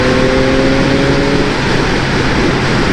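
Yamaha MT-09 SP motorcycle in sport mode accelerating on the road, a loud steady engine roar with rising harmonic tones that fade into broad wind and road noise.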